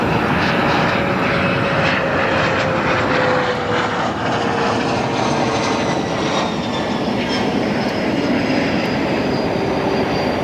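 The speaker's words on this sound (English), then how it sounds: "These United Express arrivals are coming in hot." A United Express airliner on its landing approach into O'Hare, its engine roar steady and loud across the whole stretch, with a faint whining tone gliding downward beneath the broad rushing noise.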